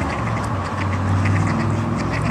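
Ducks quack in a steady, overlapping chorus close by, a continuous nasal chatter from a group with a low background hum underneath.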